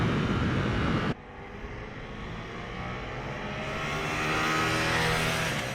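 Motorcycles lapping on track during a track day session at Donington Park, including a Ducati Monster SP: a loud near engine roar cuts off abruptly, leaving a steady distant drone of bikes circling that gradually swells.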